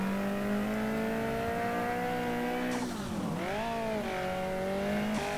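A front-wheel-drive sporty coupe drifts in an MTA:SA street racing game, its engine droning loudly and continuously, pitch sagging and climbing as the tires slide through a turn, with no talking.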